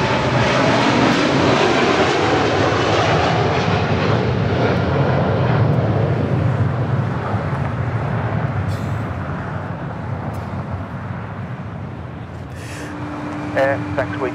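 A Boeing 747 takes off at LAX, a loud sustained jet engine roar that fills the scene and slowly fades as the aircraft climbs away, with radio chatter heard faintly near the end.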